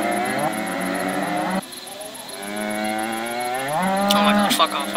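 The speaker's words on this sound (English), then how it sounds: "I like that these cows don't move at all." Cattle in the video game WolfQuest mooing, with long, loud, close lowing calls that rise and fall, a brief pause between them, and a sharp click near the end.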